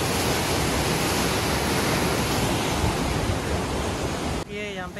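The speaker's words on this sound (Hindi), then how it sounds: "देखिए कितना स्पीड से पानी आ रहा है।" Fast water rushing through a small channel of the Indira Gandhi Canal, a loud continuous roar close to the microphone that cuts off abruptly near the end, with a voice heard briefly afterward.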